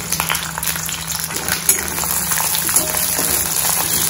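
Red chili peppers and urad dal frying in oil in a pan, a steady close crackle and sizzle with occasional small pops running throughout.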